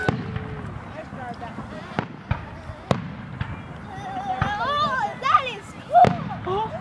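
Fireworks exploding outdoors, with several sharp booms and crackling bursts spaced irregularly, while people chatter, cheer and call out over the show.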